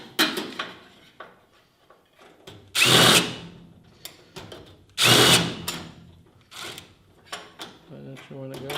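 A power drill drives screws into a secure storage steel cabinet during assembly, two loud whirring bursts a couple of seconds apart, with clicks and handling noises around them and someone talking in between.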